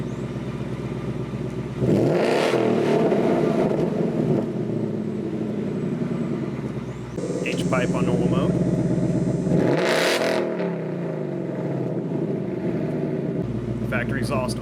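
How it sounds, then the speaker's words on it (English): A Ford Mustang S550 (2015+) with its factory exhaust in normal mode idles, then revs hard twice in sharp bursts that climb and fall back, loud and close, with a rumbling exhaust between revs. "Factory exhaust on normal mode."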